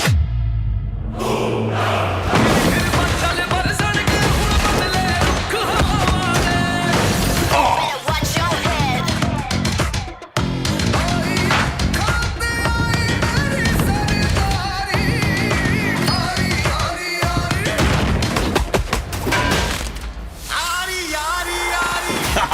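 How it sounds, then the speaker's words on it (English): Gunfire and rocket launcher blasts from the action film trailer for Dhurandhar The Revenge come as loud, dense, repeated bursts and crashes in a continuous, heavily layered mix, with voices appearing here and there. "कई मकामात पर फायरिंग और रॉकेट लॉन्चर के धमाके साफ सुनाई दिए जा रहे हैं"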